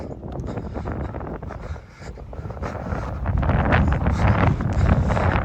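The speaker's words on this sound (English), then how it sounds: "It's a nice day out here, although it's windy." Strong wind buffets the microphone outdoors on a walk on a nice but windy day, a continuous loud rumble and roar that swells in gusts and grows heavier toward the end, with no talking.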